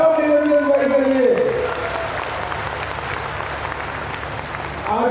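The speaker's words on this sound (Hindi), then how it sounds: "ताली बजाओ निरंजन भाई के लिए।" Crowd applause at a BJP political rally during the Parivartan Yatra in Rajasthan, loud clapping filling the space while someone speaks over it through a public address system, easing slightly and then rising again.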